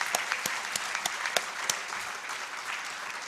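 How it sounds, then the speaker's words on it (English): An audience at a national-level quiz competition grand finale gives a round of applause for the host, a dense, steady patter of many hands with a few crisper claps, heard from a moderate distance. "Can we please have a huge round of applause first for Big Brain for bringing such energy on stage."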